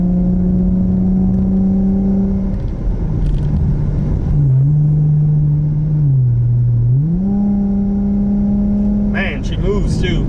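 A car engine drones steadily up close, its pitch dipping and then climbing again as the revs rise, with a brief clatter near the end and no voices.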